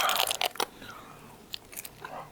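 Crisp crunching bites of crunchy food up close, several quick crunches at first, then quieter chewing with a few more crunches.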